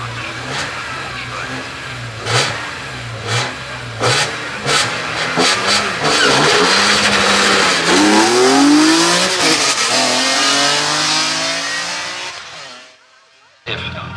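A race car launches at the start of the Glasbach hill climb slalom in Bad Liebenstein, engine revving hard through rising gear pulls and fading into the distance, with an announcer talking over the start.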